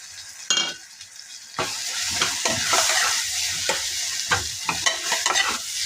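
Spices and finely chopped tomato for a green chickpea curry frying in a pan, a steady close sizzle with repeated stirring scrapes throughout, no talking.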